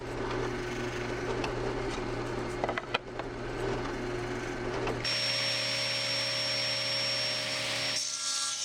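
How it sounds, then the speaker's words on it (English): A drill bores dowel holes into wood for a folding table: a rough, grinding cut over a low hum with a brief dip in the middle, then a steady high motor whine before it stops. "I'll drill to a depth of 3/4 inch so that the dowel sits in very straight"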